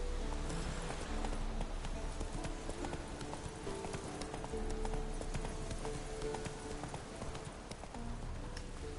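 A horse gallops under a rider in The Witcher 3, with steady rapid hoofbeats and a faint whinny over a continuous game ambience.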